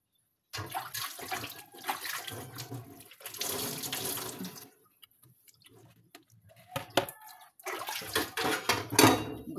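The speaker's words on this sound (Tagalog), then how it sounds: "Hugasan ako ang plato" A plate is washed under a running tap, bursts of splashing, gushing water against the dish broken by a brief lull, then renewed rinsing, close and fairly loud, with no talk.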